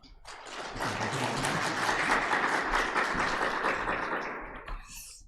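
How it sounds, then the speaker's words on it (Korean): A church congregation claps to welcome a pastor arriving for the Sunday sermon, a dense, warm burst of applause that swells quickly, holds for several seconds and fades out. "우리 박수로 환영하면 좋겠습니다"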